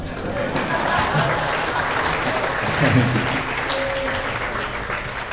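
A live-stream audience applauds at the close of a slowly played melody, dense steady clapping filling the whole stretch at an even, fairly loud level with a slight swell near the middle.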